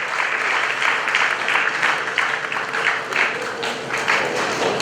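Audience clapping at a graduation ceremony honoured by the Asantehene, a full, steady applause from many hands with slight swells.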